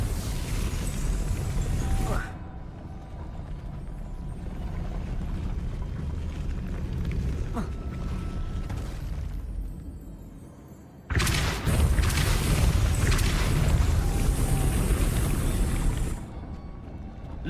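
The Depulso spell cast in a Harry Potter video game: a bright, sharp whooshing burst that cuts in loudly and fades over a few seconds, over a steady game ambience, with an earlier similar burst at the start.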